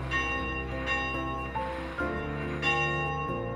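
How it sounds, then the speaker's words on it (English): An original church bell cast in Glasgow in 1875 rings in repeated loud, resonant strikes, each followed by a long humming decay, with no voices. "We're very fortunate to have the original bell that was cast in Glasgow in 1875."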